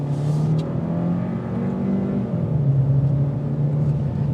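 A 2022 Hyundai Sonata Limited sedan accelerating in sport mode, its engine a steady low drone and rumble that holds loud and even with slight rising tones, heard from inside the cabin with no talking.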